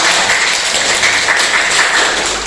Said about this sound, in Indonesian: Berikan tepuk tangan buat teman-teman.